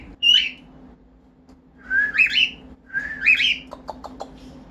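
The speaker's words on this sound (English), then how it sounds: "my cockatiels are in it and they're fascinating" Pet cockatiels indoors give three bright whistled phrases, each followed by quick chirps, over a steady low household hum, close and fairly loud with no one speaking.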